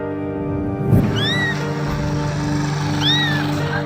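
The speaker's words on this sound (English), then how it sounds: "People heard a small blinded kitten crying and decided to help." A small blind kitten gives two thin, high cries about two seconds apart over a steady background hum, with a soft thump just before the first.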